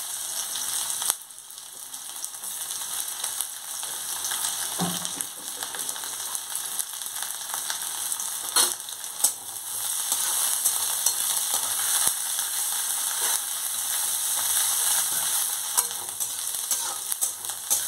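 Chopped onion frying in hot oil with dried red chillies and black cumin (kalonji), giving a continuous close hiss of sizzling broken by occasional utensil knocks and stirring scrapes.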